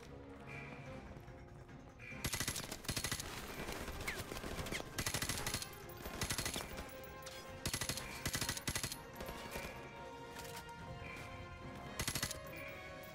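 Call of Duty: Modern Warfare gunfire rattles in rapid automatic bursts, loud and close, repeating in several clusters over a busy background, with a voice shouting at times.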